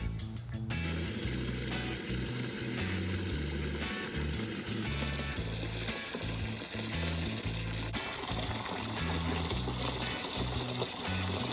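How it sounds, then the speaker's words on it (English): Water gushes steadily into a Plungechill cold plunge tub from a running tap, a continuous loud pouring and splashing that fills the whole stretch with no talk over it. "Now, let's fill this thing up with some water."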